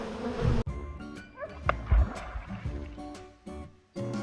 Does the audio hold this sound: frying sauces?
no